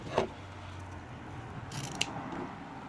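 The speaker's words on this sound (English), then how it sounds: "want to grab some scissors." Quiet, close snips of scissors cutting ribbon for a chainmaille bracelet: one crisp cut near the start, then a pair of sharp snips later, with soft handling noise between.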